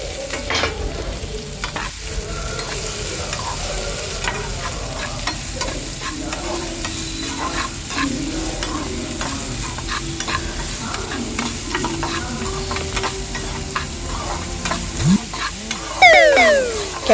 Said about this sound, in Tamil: பீன்ஸு, கேரட்டு எல்லாத்தையும் சேர்த்து நல்லா வதக்குங்க.